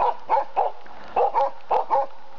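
Japanese bear dogs chasing a bear bark in quick bursts of two or three, loud and close, with short pauses between groups.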